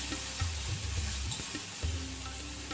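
Onion, ginger and garlic fry in oil with a steady close sizzle, overlaid by low scraping and stirring knocks from a utensil in the pan.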